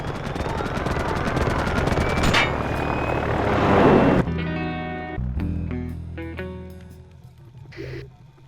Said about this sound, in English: We've received reports of a low-flying aircraft in your area.